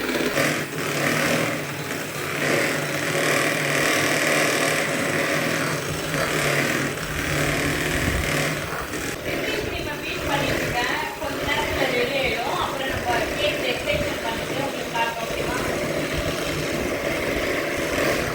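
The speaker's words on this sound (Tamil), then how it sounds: "அதுக்கு விப்பிங் க்ரீமை வந்து நம்ம பீட் பண்ணி எடுத்துக்கலாம்." An electric mixer beats whipping cream for a black forest cake, giving a steady, close motor whir that runs the whole time, with a voice talking over parts of it.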